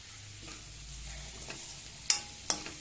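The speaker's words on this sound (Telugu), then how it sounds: "కొంచెం కారం వేసుకుని ఇలా వేపుకుంటా ఉండాలి." Minapa vadiyalu fry with onion and chili powder in a pan, giving a quiet, steady sizzle with soft scraping as it is stirred and two sharp metallic taps of a spoon against the pan near the end.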